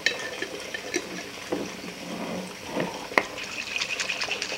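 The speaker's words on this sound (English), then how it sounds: "just put a little bit of water in, not a great deal" A little water poured into a container while cooking, heard as faint, intermittent splashing and trickling with a few light clinks of kitchenware, close by and quiet.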